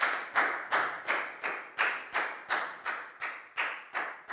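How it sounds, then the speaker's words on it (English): Rhythmic, evenly spaced claps sound as a Year 4 math class applauds a student, about twelve crisp beats in a steady chant-like pattern, close and clear with no talking. "High five and a big round of applause for Pak Bung,"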